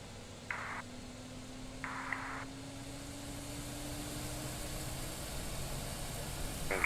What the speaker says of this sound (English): this should start the APU. We can hear definitely something changing.